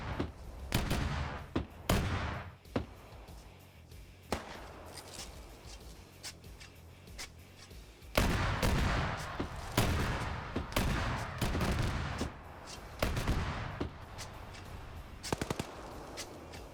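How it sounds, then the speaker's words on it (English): Rapid bursts of autocannon fire in a multiplayer military game battle, loud repeated volleys with sharp cracks and a sustained rattling stretch, mixed with other distant gunfire throughout. "Autocannon finally finds an angle."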